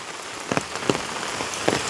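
Heavy monsoon rain falls steadily on a flooded village, a soft even hiss with a few louder drops and splashes standing out, close by and with no voices.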